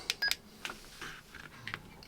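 TIDRADIO TD-H8 10-watt handheld radio giving short electronic key beeps, a quick pair of tones followed by a few softer presses and one more beep, close and fairly quiet with no talk.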